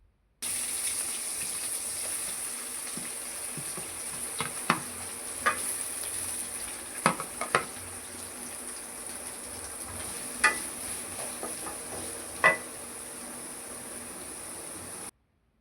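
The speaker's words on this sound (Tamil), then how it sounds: "கடுகு நல்லா பொரிஞ்சோன்னு கட் பண்ணி வச்ச வெங்காயத்தையும் போட்டு நல்லா வதக்கணுங்க" Onions sauté in hot oil in a kadai after mustard seeds have popped. A steady low sizzle runs throughout, punctuated by several sharp clinks and scrapes as the spoon stirs against the metal.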